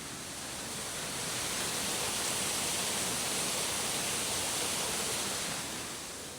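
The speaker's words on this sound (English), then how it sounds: "there's the waterfall" A steady, dense roar of falling water fills the whole stretch, loud and unbroken, with no voices over it.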